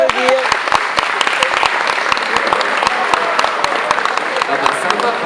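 Audience applause fills a French comedy or stage show hall, a dense steady wash of clapping with sharp individual claps standing out, loud and close throughout.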